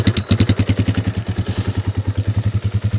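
An RFX 250 enduro motorcycle engine fires up and runs in a fast, even chugging pulse, loud and close, with a mechanical clatter at the start and no talking over it.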